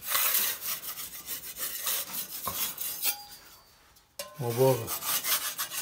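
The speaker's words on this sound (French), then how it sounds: "On gratte les petites impuretés facilement comme ça." A scraper rasps plaster impurities off a metal corner bead in steady rubbing strokes, close and fairly loud, with a brief pause and a short spoken phrase near the end.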